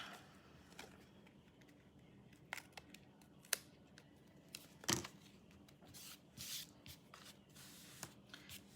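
Scissors trim paper in quiet, close snips and short crisp cuts spread unevenly among soft paper rustles, with no voice present.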